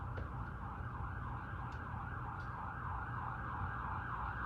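An ambulance siren outside, wailing in a steady rising and falling cycle, moderately distant, over constant traffic and room background noise with no talking.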